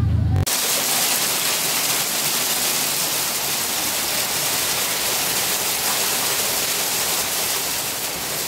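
Sudden heavy rain with hail arriving outdoors, a loud, dense, unbroken roar of falling water that starts abruptly and continues steadily.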